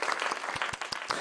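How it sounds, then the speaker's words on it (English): Audience applause at a live assembly event, a steady wash of clapping from many hands filling the short span at moderate level, with no one speaking over it. "You want to hear the applause."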